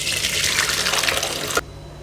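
Hot water from boiled pasta poured off through a strainer, a loud continuous gushing splash that stops abruptly near the end, leaving quiet room tone.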